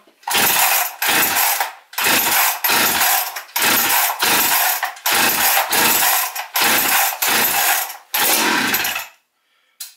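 A chainsaw with a freshly rebuilt carburetor is started: about eight loud, close bursts come in a regular rhythm with short pauses between them, then the sound cuts off near the end.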